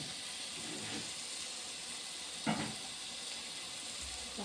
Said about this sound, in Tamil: இப்போ தக்காளி போட்டுக்கலாம். தக்காளி நல்லா வதங்கணும்.